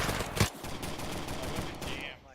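A group of rifles fires together in a single volley during special forces detachment training, one sharp close crack early on, followed by a noisy outdoor background.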